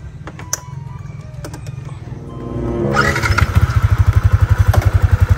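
A new motorcycle engine starts up and runs close by, settling into a loud, steady, rapid chugging pulse.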